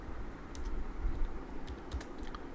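Quick light taps on a computer keyboard while a question is written out, a short close burst of irregular keystrokes with no talking.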